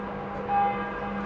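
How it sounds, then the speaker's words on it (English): Notre Dame cathedral bells in the Paris map of Overwatch, a single sustained bell tone ringing over a steady low hum, moderately loud and alone. "the bells are accurate to Notre Dame"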